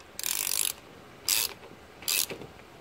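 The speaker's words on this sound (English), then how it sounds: "Now you just take your handy dandy deep socket 11/16 and you can fit over both of them just like that" Ratchet wrench with an 11/16 deep socket tightening a fitting during turbo engine preparation on a 2009 Mitsubishi Lancer: three close, loud bursts of rapid clicking, one long and two short, with no talk.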